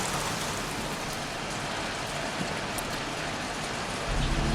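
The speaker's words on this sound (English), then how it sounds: "Goddamn rain. Soaking wet." Steady rainfall in the video game Heavy Rain, a constant wide hiss of drops on surfaces, moderately faint and unbroken, with a slight low rumble rising near the end.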